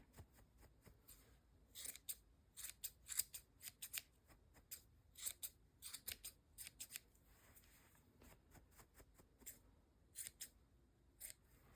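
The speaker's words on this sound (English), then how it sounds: "fluff them up with my scissors" Sharp scissors snip yarn repeatedly on a crocheted hat in quick irregular bursts, close and crisp, with quiet pauses between clusters of cuts.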